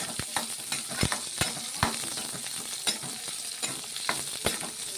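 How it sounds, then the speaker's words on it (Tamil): Onions sauté in a pan for an ivy gourd stir-fry, giving a soft, steady sizzle broken by sharp spatula scrapes and clicks against the pan, with no talking. "வெங்காயம் நல்லா வதங்கிட்டு இருக்குங்க"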